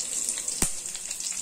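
Curry leaves and cut dried red chillies sauté in hot oil for a black nightshade (manathakkali) dish. A steady, fairly faint hiss carries throughout, with one sharp pop or clink partway through.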